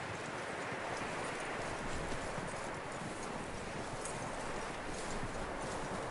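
Horse hooves in Red Dead Redemption 2 clip-clop in a steady walking rhythm, close and continuous, over dense rustling ambience with no talk.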